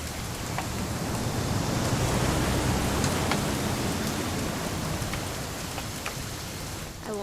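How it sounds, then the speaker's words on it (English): Steady rain in What Remains of Edith Finch video game, a dense continuous hiss of falling drops with a few faint distinct patters, even and fairly close throughout. "It's gonna rain the whole weekend"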